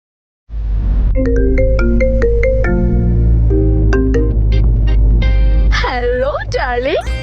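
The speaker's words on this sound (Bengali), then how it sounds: "মল্লিকাকে একটা ফোন করি তো।" Melodic tone sequence on a phone during an outgoing call, loud and close. It starts after a brief silence with stepped notes, then shifts into warbling, sliding tones near the end.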